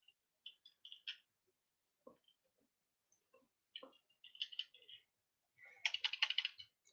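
Computer keyboard typing during a webcomic drawing livestream: sparse clusters of crisp key clicks with pauses between, ending in a quicker, denser burst of keystrokes, close and alone in a quiet room.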